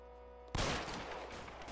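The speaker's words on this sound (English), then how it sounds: "I just shot for no reason." A single sharp gunshot from L.A. Noire breaks a low musical hum, followed by a loud rumbling burst of reports and noisy decay.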